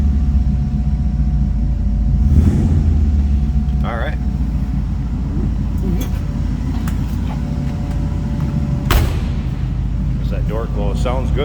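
A 1951 Ford coupe street rod with a flathead V8 idles after a cold start, a steady low rumble with a brief rev near the end, while someone talks over it.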